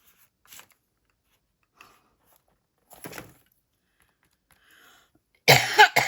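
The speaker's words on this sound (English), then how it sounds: "Sorry for the cough." A few faint scattered rustles and taps, then one sharp, loud cough close to the microphone near the end during a lapbook craft session.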